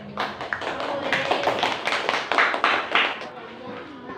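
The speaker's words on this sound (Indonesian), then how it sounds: "tepuk tangan untuk kelompoknya Arzil" A classroom gives a student group a round of applause, with scattered, uneven hand claps and voices mixed in.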